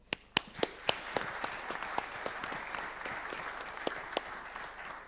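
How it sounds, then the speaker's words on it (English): Conference audience applauding the speakers at a district cooling and heating conference, a steady wash of many hands clapping with a few sharper nearby claps standing out, sustained throughout. "please join me in giving them a round of applause."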